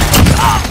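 A short, loud burst of rapid gunfire with heavy thumps in the video game Call of Duty: Modern Warfare, lasting under a second.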